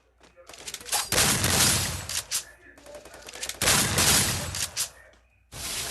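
Pistol gunfire in a video game, fired in rapid bursts of loud, close shots separated by short pauses, with a voice talking over parts of it.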